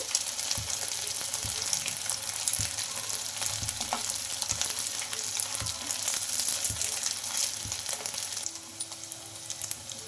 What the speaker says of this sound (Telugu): ఇంకా అటు ఇటు తిప్పుకుంటూ కాల్చుకోవాలండి ఇంకా అన్నీ ఇలానే ఫ్రై చేసుకోవాలి